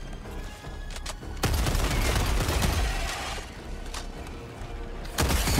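Sustained gunfire in Helldivers 2, a dense roaring fusillade of rapid shots and booms against endless bug swarms, loud and continuous with brief lulls, no talk.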